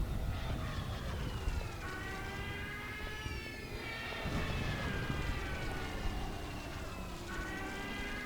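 Fighter aircraft in the WWII strategy game Blitzkrieg, a steady engine drone with rising and falling whines as planes pass overhead, faint and continuous with battle rumble beneath.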